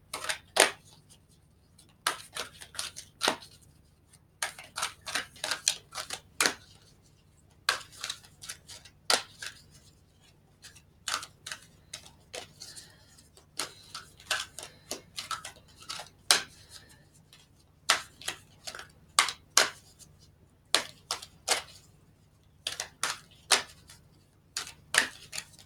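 Halloween oracle cards are handled and shuffled alone in a quiet room, with a long run of crisp, irregular snaps and flicks, some in quick bursts and others spaced apart.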